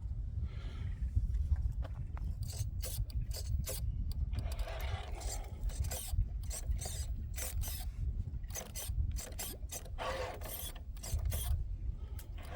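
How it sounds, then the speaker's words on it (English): An RC car's failing servo, losing torque, makes rapid irregular mechanical clicking and ratcheting, with bursts of close buzzing and creaking over a low rumble. "I think we have a servo that is failing us."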